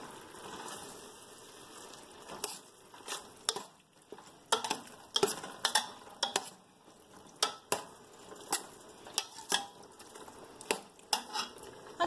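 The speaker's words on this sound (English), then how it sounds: "So they're going to add to the pot. And stir that in." Tomatoes being stirred into a pot of pasta e fagioli soup, with a series of sharp clinks and scrapes of a utensil against the pot at an irregular rhythm, close and fairly loud, no talk.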